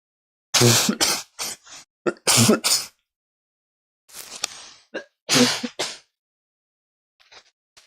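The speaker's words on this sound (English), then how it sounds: "Sorry for the coughing" Several bursts of coughing and throat clearing from one nearby person in a quiet room, in clustered fits with pauses between them, no talking.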